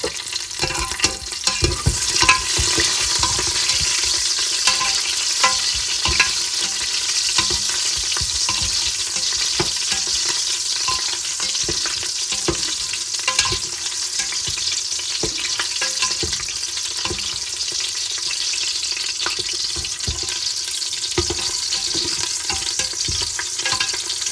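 Green chillies fry and sizzle in hot oil in a pan for mutton biryani, a steady loud crackle with frequent stirring scrapes throughout, close up.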